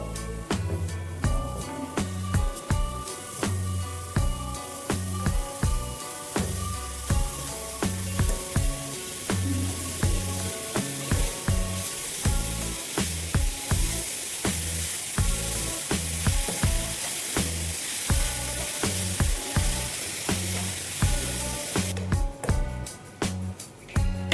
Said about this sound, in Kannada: ಸಕ್ಕರೆ ಎಲ್ಲ ಕರಗ್ಬಿಟ್ಟು ಕ್ಯಾರೆಟ್ ಜೊತೆ ಚೆನ್ನಾಗಿ ಮಿಕ್ಸ್ ಆಗೋ ತರ ಫ್ರೈ ಮಾಡ್ಕೊಳ್ಳೋಣ.